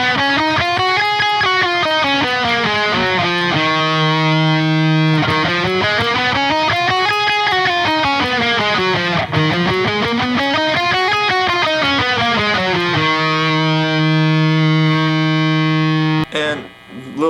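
Distorted electric guitar plays the second octave of a scale with alternate picking, running steadily up and down in even notes and holding a sustained note between runs, loud and alone.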